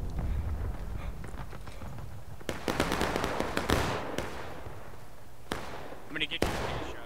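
Artillery cannon firing in the Civil War game War of Rights, with sharp booming reports and a burst of crackling impacts amid steady game ambience, mid-distance, while players talk over it.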